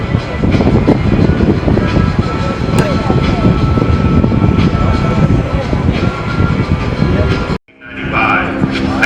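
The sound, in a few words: Extra 330 LX aerobatic airplane engine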